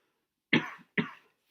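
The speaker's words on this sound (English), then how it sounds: "Sorry, talking a lot really makes me cough." Two sharp, close coughs from an adult man, a brief pause between them, with no other sound around.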